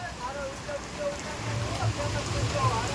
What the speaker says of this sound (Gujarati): આ ફૂલ એન્ટ્રી હો ભાવનગરમાં વરસાદની જોવો તમે